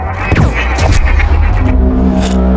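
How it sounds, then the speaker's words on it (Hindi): Loud bursts of gunfire heard over a phone line crack out in a quick cluster, several sharp reports close together over a humming, rumbling background. "फ़ोन पे ना मुझको गोली चलने की आवाज़ सुनाई दी"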